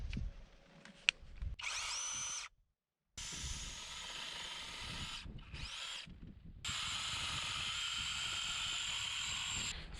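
A chainsaw cuts soft fig tree wood in an off-grid garden in Portugal, its engine screaming loud and close in long bursts, dropping out briefly between cuts, then roaring steadily again.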